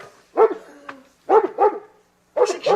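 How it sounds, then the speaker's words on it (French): A neighbour's dog barks in three bursts, single woofs and then quick doubled barks with short gaps between them, heard fairly close in a quiet room. "C'est le chien du voisin."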